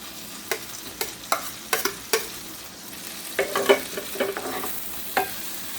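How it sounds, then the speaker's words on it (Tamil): Banana pieces frying in melted butter in a pan, browning at the edges, with a steady soft sizzle under repeated sharp clicks and scrapes of a spatula stirring and turning the fruit, close up and with no talking. "கொஞ்சம் இந்த பழத்தோட ஓரமெல்லாம் ப்ரௌனிஷ் ஆகிற வரைக்கும் நல்லா ஃப்ரை பண்ணிடலாங்க."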